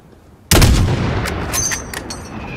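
A heavy gunshot bursts suddenly in the Call of Duty Modern Warfare campaign, followed by a rolling echoing tail and a few sharper distant cracks of gunfire, loud and with no talking.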